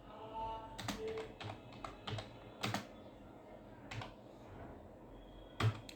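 Product details typed on a computer keyboard, sparse and irregular key taps with a few louder strikes and quiet gaps between them, heard alone with no talk.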